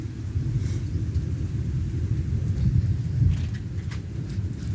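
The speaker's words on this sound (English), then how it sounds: "There's still lightning and there's still rain" Heavy rain pours steadily outdoors on a rural homestead during a thunderstorm, with deep rolling thunder rumbling underneath throughout and no talking.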